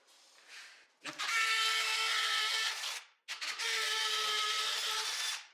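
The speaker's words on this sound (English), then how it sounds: "This drill bit's nice and new, so it makes for easy drilling." Two separate bursts of a power drill with a new bit grinding into a wall, each lasting a couple of seconds with a short pause between them, close and loud.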